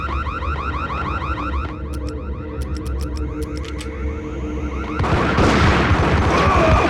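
Grenade blast in the PS2 game Max Payne: a whooping alarm-like tone and sharp metallic pings give way at the end to a loud, broad explosive burst that swells and lingers.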